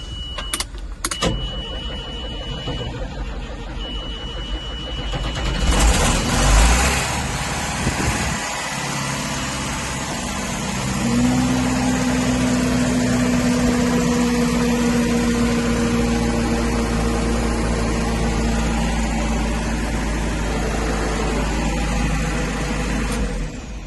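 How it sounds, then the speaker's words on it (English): A 1994 John Deere 7740 tractor engine cranks briefly, then catches and settles into a steady, loud low rumble that holds without a break, with no talking. "These tractors used to have the Power Star engine in them, which has always been a good starter."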